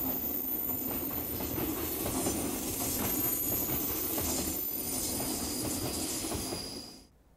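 A long Japanese freight train hauled by EF510 electric locomotive No. 20 passes steadily through Kanazawa, bound from Okayama to Niigata freight terminals, a continuous loud rumble with wheel clatter and faint squeal, ending abruptly as the last wagons go by.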